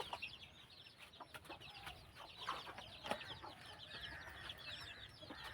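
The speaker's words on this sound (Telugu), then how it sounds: "ఇప్పుడైతే మన ఫామ్లో ఉన్న కోళ్ళని చూద్దాం రండి ఫ్రెండ్స్" Several chickens cluck and chatter softly at a distance on a small country-chicken farm, with scattered bird calls and faint farmyard background noise.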